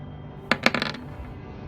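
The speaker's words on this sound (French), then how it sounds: "Lance 2 dés." Two dice rolled during a tabletop role-playing session, a short burst of clattering rattles and bounces on a hard surface lasting under half a second, fairly faint against quiet room noise.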